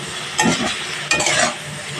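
Potatoes frying with spices in a pan for a Bengali fish curry, two quick scraping stirs over a close, steady sizzle, brief and fairly loud.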